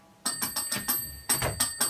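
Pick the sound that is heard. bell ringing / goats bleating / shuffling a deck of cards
bell ringing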